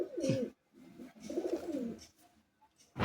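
Madrasi high-flying pigeons in a loft give several soft, throaty coos in rounded bursts, close by, with short pauses between them and no talking.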